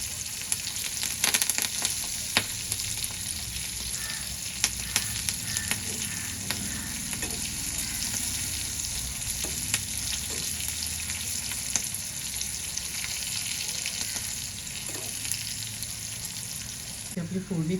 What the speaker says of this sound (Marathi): आपली फोडणी छान झाली आहे.